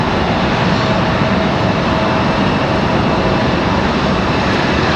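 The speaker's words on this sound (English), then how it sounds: "Nice touchdown there for JetBlue." A JetBlue airliner after touchdown at Raleigh-Durham airport, heard as a loud, steady broadband roar of engines and rollout rumble that holds even throughout without any letup.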